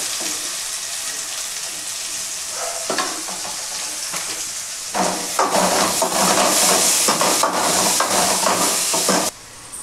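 Crushed garlic, onion and turmeric fry in a pan, a hissing sizzle that swells louder partway through as stirring strokes scrape in bursts, close and with no talk.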